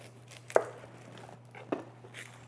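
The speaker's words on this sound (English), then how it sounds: "Cut the end off. Cut the onion in half." Knife cutting an onion on a board: two distinct crisp chops about a second apart, close and clear over a low steady hum, no speech.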